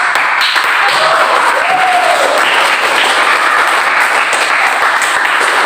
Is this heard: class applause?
yes